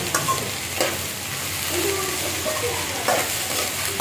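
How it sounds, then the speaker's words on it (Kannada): Okra sizzles steadily as it fries in a pan, with a spoon scraping and stirring through it in repeated close strokes, loud and continuous with no voices. "ನೀಟಾಗಿ ಫ್ರೈ ಮಾಡ್ಕೊಳ್ಳಿ ಸ್ವಲ್ಪ ಹಸಿ ವಾಸನೆ ಹೋಗುವವರೆಗೂ ಫ್ರೈ ಮಾಡ್ಕೋಬೇಕು"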